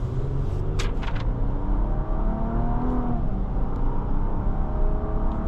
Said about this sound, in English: with that turbo V6, this vehicle picks up quickly.